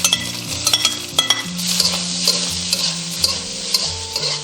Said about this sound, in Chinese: 紧接着我们下入蟹肉跟鱼肉，稍微简单炒一下，等下会更香一点。